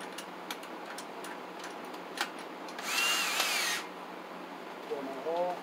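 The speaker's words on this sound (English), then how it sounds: "Use my DeWalt." A DeWalt power drill bores a hole for an outdoor weatherproof switch box, with one short, close whirring burst of about a second between soft ticks and handling noises.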